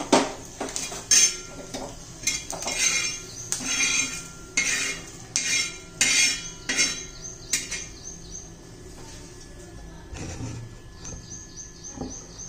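Roasted flaxseed, peanuts, garlic and curry leaves being scooped out of a pan for chutney. Close metal clinks and scrapes of a spoon against the pan repeat in a steady rhythm, then fade out near the end.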